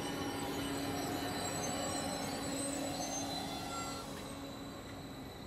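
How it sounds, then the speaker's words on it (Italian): A modern, colourful local train runs near Villa Bassa station on the line linking villages from Fortezza to San Candido, giving a steady, close rumble with faint wheel squeal and a slight fade toward the end. "Oggi moderni trenini colorati e silenziosi collegano tutti i villaggi da Fortezza a San"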